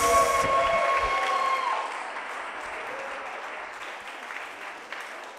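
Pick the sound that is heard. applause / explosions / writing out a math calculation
applause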